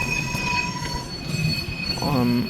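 A freight train passes nearby in Fostoria, Ohio, with high, ringing wheel squeal held over a steady rolling rumble and a louder tonal swell near the end.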